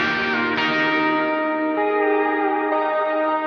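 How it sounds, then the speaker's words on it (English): Electric guitar, slide guitar and steel guitar play together on a pop country track, a sustained, heavily reverberant wash of chiming chords with gliding slide notes, loud and continuous with no voices. "So what I decided to do was add an electric guitar, a slide guitar, and a steel guitar."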